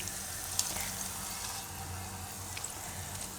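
A hot tempering of garlic and cumin hits a pot of dal, giving a soft, steady sizzling hiss that stays fairly quiet, with no voices.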